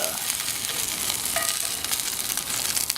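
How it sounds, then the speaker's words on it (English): Steak sizzles and fries steadily in a skillet heated to about 500-600 degrees, a dense, continuous crackle with small pops throughout, close and unaccompanied by talk. "This is the last of our delicious steak we're cooking here."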